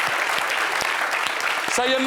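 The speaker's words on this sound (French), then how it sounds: "Sayema, on l'applaudit s'il vous plaît." Studio audience applauds at a French television variety show, a steady broadband clapping wash lasting the whole moment, with a voice and a brief tonal musical sting rising near the end.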